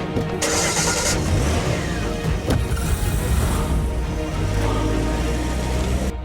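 A car starts up and pulls away, its engine turning over and then revving loudly and close by as it moves off, with a steady mid-pitched drone throughout and no talk.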